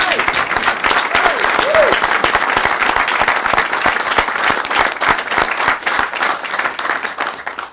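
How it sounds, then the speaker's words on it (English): An audience applauds Georgia Governor Brian Kemp's announcement of the state's first female senator in nearly 100 years, dense loud clapping that sounds close and continuous before tapering at the end. "we can clap for that"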